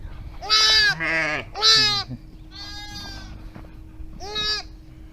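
Sheep with newborn lambs bleat on a farm, several loud, wavering calls close by, two quick ones, then a quieter one and a final bleat, with a steady low hum underneath.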